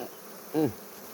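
Bees buzz around a hive in a brief, close, loud burst of a half second or so, heard alone over a quiet outdoor background.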